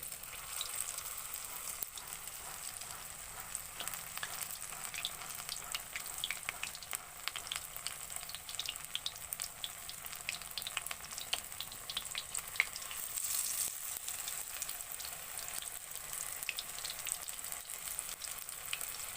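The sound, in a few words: cauliflower pakoras frying in oil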